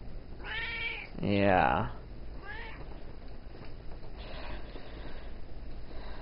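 A Bombay cat lets out a couple of close meows, one long and drawn out, followed by a softer brief mew, while a person says a short word nearby.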